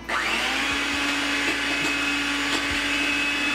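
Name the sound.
electric mixer mixing eggless chocolate cake batter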